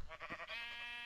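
A video game sheep bleats once, a short wavering close bleat that trails into a held tone.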